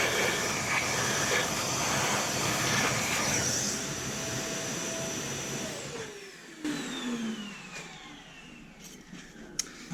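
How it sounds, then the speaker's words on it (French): A shop vacuum sucks up metal chips left from machining a 1993 Cadillac Northstar 4.6 L V8 part, a loud steady whooshing roar that fades and thins after about six seconds, with faint tool clinks near the end. "On va aspirer les copeaux."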